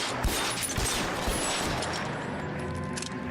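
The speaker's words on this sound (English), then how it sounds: "I'm going to shoot out their tires so they can't follow us." Gunshots fired at car tires during an L.A. Noire chase, a steady barrage of overlapping reports over loud engine and road noise, dense and continuous throughout.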